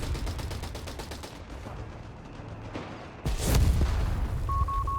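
Gunfire in Company of Heroes 3, a match between the Afrika Korps and US Forces, a rapid burst of rifle and machine-gun shots followed by a louder booming impact, with a brief beep near the end.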